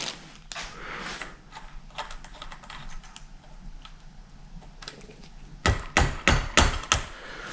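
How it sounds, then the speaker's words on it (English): Hammer blows drive a star nut into the steerer tube of a budget bicycle fork, with scattered light taps early on and then a run of loud, sharp, close strikes near the end. "after a lot of hammering, we got that star nut down in there"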